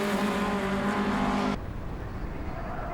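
2007 Mini Challenge race cars at Donington Park roar loudly past in a dense, high-revving engine wail that cuts off abruptly halfway through, leaving a quieter, more distant engine drone.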